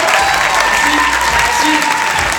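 Applause from a French school stage-show audience after participants return to their seats, steady and dense across the whole stretch, with a voice talking over it.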